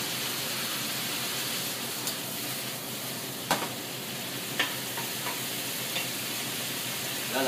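Beef searing in a hot pan for a carrot beef stew, a continuous steady sizzle with a few faint clinks and stirring knocks scattered through.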